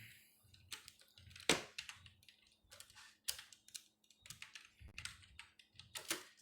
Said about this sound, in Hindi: मैं टाइप कर देता हूँ।